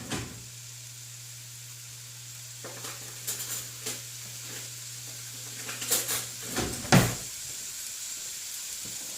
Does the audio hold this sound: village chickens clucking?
no